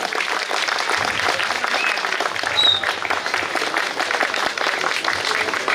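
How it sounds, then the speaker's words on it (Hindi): Audience claps during a welcome at a community association program, a continuous moderate round of applause with a scattered crowd texture, heard alone at medium distance. "क्लैप होना चाहिए, तालियां होना चाहिए।"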